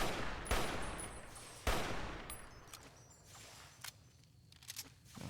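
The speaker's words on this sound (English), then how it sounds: "Oh, I'm getting shot at." Gunfire in the video game Fallout: New Vegas, with two sharp, loud shots followed by fainter scattered pops and clicks as the echoes fade.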